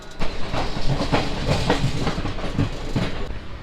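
A passenger train runs along the tracks on a journey through Himachal, with a steady rumble and a regular clickety-clack rhythm of wheels over rail joints, loud and close throughout.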